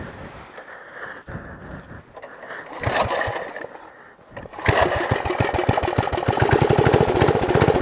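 A go-kart engine with a freshly oiled clutch sputters unevenly at first, then catches and runs steadily with a rapid, loud chugging rhythm that holds to the end.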